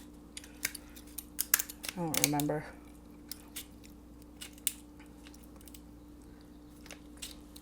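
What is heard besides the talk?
scissors cutting crab legs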